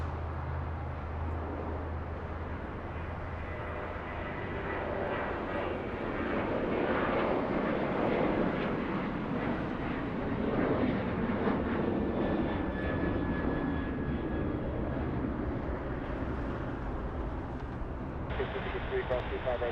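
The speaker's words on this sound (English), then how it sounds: "Let's go for the next takeoff." A passenger airliner takes off at Los Angeles airport, its engines building into a broad, distant roar that swells and holds, with a voice talking over it near the end.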